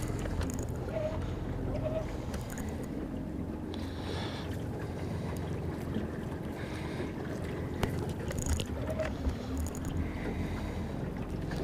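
Strong wind buffets the microphone out on open water during a fishing trip from a boat, a steady loud roar with gusts and water sloshing underneath, and no talking.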